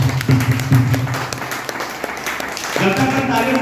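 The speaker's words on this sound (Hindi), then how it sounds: "हाथ ऊपर उठा के ताली बजाइए।" Audience at an AWPL business-plan meeting clapping with hands raised, a dense patter of applause mixed with a speaker's voice and hall noise, swelling again toward the end.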